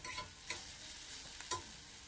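Ground beef for spaghetti browns in a pan with a soft, steady sizzle, broken by a few light scraping stirs of a utensil, quiet and close.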